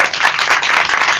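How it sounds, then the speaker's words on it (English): A live audience applauds the three panelists at a community event, steady dense clapping without a break, close and loud, with no talking over it. "Give them a round of applause."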